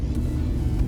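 A car accelerates along a country road at around 90 km/h, heard as a steady low engine rumble with road noise from inside the vehicle for under a second.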